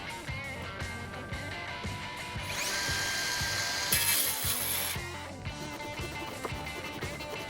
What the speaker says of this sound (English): I'm going to go ahead and cut the wood that was overhanging the post that's not going to be a part of the gate